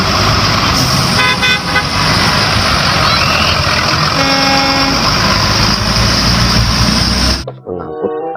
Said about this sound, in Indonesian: Selanjutnya, wah, ini ada bus sekolah.